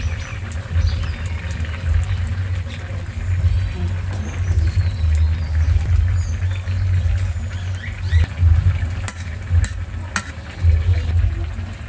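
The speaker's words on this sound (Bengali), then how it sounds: "ট্যাংরা মাছগুলো দিয়ে আজকে আলু দিয়ে টমেটো রান্না হচ্ছে" Tangra fish cooking with potato and tomato in a pan makes a steady, close sizzle and bubbling, with occasional stirring clatter and faint background noises throughout.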